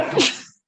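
A single sharp sneeze from a person, loud and close, bursting then fading quickly into silence.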